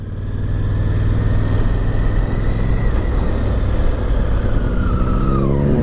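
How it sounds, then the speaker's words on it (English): A noisy car with a rough exhaust drives just ahead in traffic, heard from a 2017 Honda Africa Twin motorcycle; a loud, steady engine roar and wind rumble fill the whole stretch without letup. "let this noisy farting car get lost in front"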